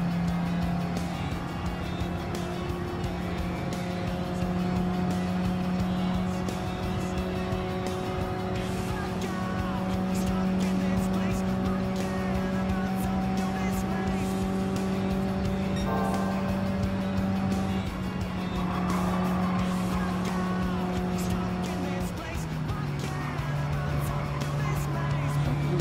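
Race car engine in Gran Turismo 7's Goodwood Clubman Cup, driven at an easy pace, drones steadily and loudly throughout, its pitch shifting as the car changes gear and speed.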